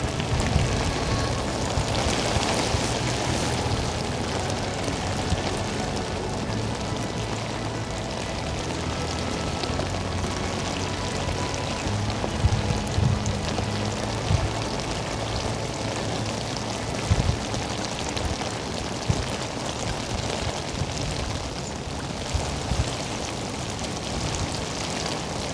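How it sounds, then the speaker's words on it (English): Sleet falling on and around a frozen lake during a winter fishing trip, a continuous dense hiss of fine pattering, steady throughout with a few louder knocks and bumps nearby. "Raining sleet's coming down again there."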